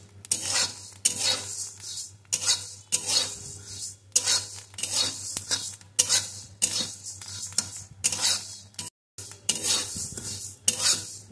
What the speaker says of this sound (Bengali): দিয়ে এইভাবে সমানে নাড়তে থাকবো। তাহলে সমস্ত চালগুলোই ভালো রকম ফুটে যাবে।